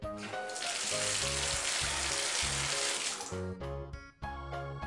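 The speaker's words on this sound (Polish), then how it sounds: "Prysznic." Steady rushing spray of water, close and loud, for about three seconds, with light background music continuing underneath and after it stops.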